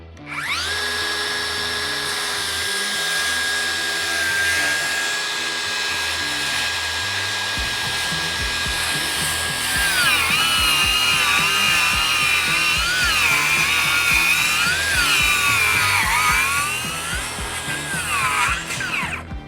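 DeWALT DCS590 cordless circular saw cutting while pushed hard: a loud, continuous high motor whine that dips and wavers in pitch as the blade bogs under load, with gritty cutting noise beneath.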